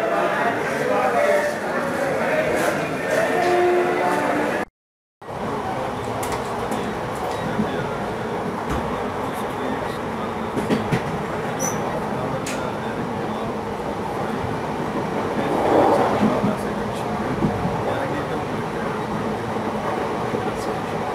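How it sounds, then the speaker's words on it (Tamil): Train noise at Jabalpur railway station on the Ganga Kaveri Express route, a steady loud rumble and clatter of rail cars that runs throughout with a short gap, voices mixed in. "ஜபல்பூர் ஸ்டேஷன்."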